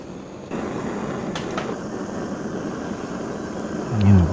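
A steady broadband roar of a camp stove burner boiling water runs throughout at close range at a riverside campsite, with a few faint clinks and a swell near the end.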